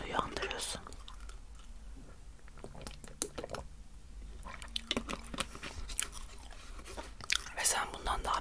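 Close, wet chewing of mint gum with soft squishing and crunchy bites, under quiet whispered talk in a close-miked ASMR roleplay setting.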